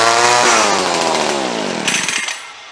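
Small gas weed eater engine, just choked, firing loud and close: it revs briefly with rising and falling pitch, sputters, then dies away within about two seconds.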